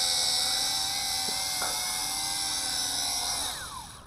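A WLToys Q919-A FPV tank drone flies over sand, its rotors giving a steady, loud, high-pitched buzzing whine that shifts pitch briefly and fades slightly at the end.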